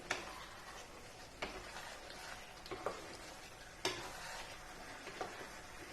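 Chicken curry meat is stirred in a pot with a spoon, giving soft scraping strokes and a few sharp clicks against the metal over a quiet, low simmer, close and fairly faint, with no talking.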